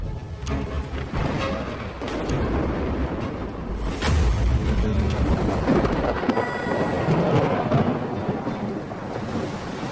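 Thunderstorm with steady heavy rain and rolling thunder, a sharp crack near the middle followed by a long rumble, dense and loud throughout as a dramatic storm effect for a ship caught at sea.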